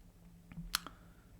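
One crisp mouse click on a software dialog's Finish button, sharp and close in a quiet room with a faint background hum.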